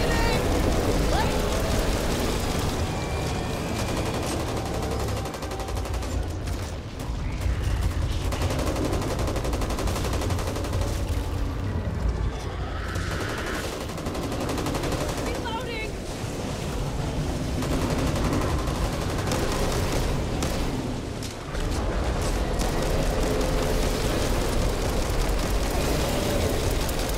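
Heavy gunfire in the zombie shooter Back 4 Blood during a last-boss Nightmare fight: dense, rapid bursts of automatic and pistol shots pile up almost continuously, with faint voices mixed under the din.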